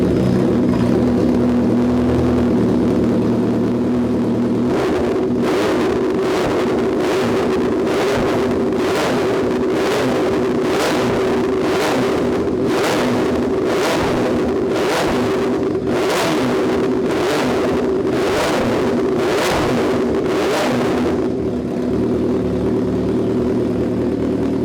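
A Suzuki Hayabusa motorcycle engine with a twin exit pipe exhaust revs hard and steadily, loud and close, with a rapid string of rhythmic throttle blips through most of the run and no talk.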